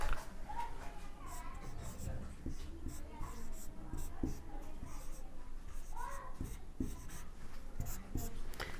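Chalk or marker scratching across a classroom board during a Class 9 maths lesson on rational numbers, a steady run of short scraping strokes with faint background talk.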